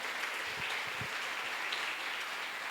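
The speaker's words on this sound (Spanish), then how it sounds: "Un aplauso para Oliver." Audience applause at a Christian youth gathering, a steady wash of clapping that holds evenly for the whole stretch; no talking.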